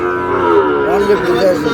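A loud, close moo from a Sahiwal cow at a cattle market, long and drawn out with a wavering pitch, filling the whole moment.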